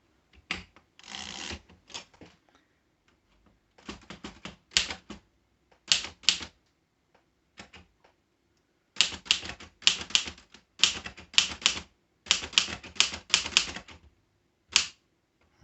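Manual typewriter keys clack in irregular bursts of rapid strikes separated by short pauses, close and crisp, during ribbon replacement with no talking over them.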